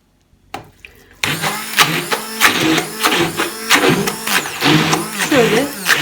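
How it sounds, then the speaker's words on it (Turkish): A kitchen blender whirs through a çiğ köfte mixture, starting after a brief quiet moment, then running loudly and close with a pulsing, churning drone as the thick paste shifts around the blades. "Şimdi biraz blenderdan geçireceğim."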